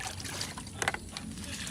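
Compost tea water poured onto strawberry plants in a home garden, a soft close trickle and splash of liquid running steadily for under two seconds, with a few brighter drips.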